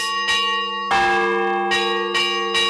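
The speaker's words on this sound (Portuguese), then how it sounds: "A cidade Patrimônio Cultural da Humanidade ainda acorda ao soar dos sinos." Large church bells in Diamantina, Minas Gerais, Brazil, ring out loudly in repeated, resonant strokes, each toll overlapping the long ringing hum of the last.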